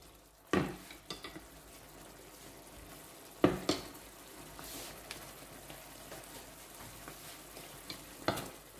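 Shrimp stir-fried for pad kaprao without basil, a soft low sizzle under sharp intermittent clacks of a spatula scraping and tapping the pan.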